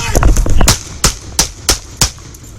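Gunfire erupts during a nighttime police incident, a rapid burst of close, loud shots followed by four evenly spaced sharp reports, each with a short echoing tail.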